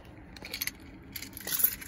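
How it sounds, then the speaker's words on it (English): Keys jangle faintly in a few short metallic bursts as they are pulled out near a car after repair work, with no talk. "let me get my keys here."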